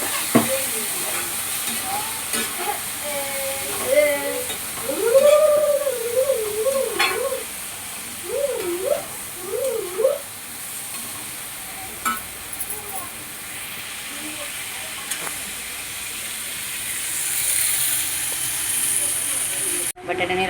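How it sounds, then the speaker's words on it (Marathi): Potatoes and rajma (kidney beans) sauté in a pan with a steady sizzling hiss and occasional stirring, while a voice talks over the cooking in bursts near the start. "हे आता मी छान परतवून घेते. आणि हे बटाटा आणि राजमा."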